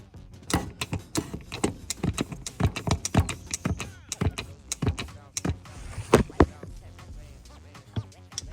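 A hand pump forcing transmission fluid into a 6th-generation Chevrolet Camaro during a transmission flush, with sharp, irregular clicking and clunking strokes repeated steadily and heard up close.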